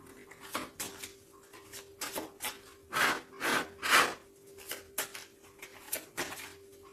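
Tarot cards being shuffled, a series of papery swishes and riffling rubs in uneven bursts, a few louder sweeps in the middle, close and quiet with no speech.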